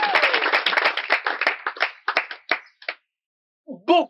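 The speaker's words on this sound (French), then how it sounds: "Applaudissez pour elle." Audience clapping for a speaker in a hall, a dense round of applause that thins into scattered claps and stops, followed by a brief voice.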